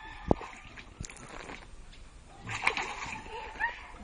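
Water is splashed at a person outdoors: a sharp splash followed by several sloshing throws, while voices shout and chatter throughout.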